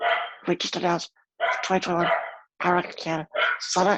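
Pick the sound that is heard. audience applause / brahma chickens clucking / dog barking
dog barking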